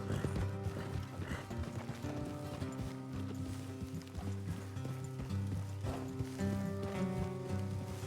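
Horses' hooves clip-clop on a trail in the game Red Dead Redemption 2, with a whinny amid steady layered game music and ambience, no talk.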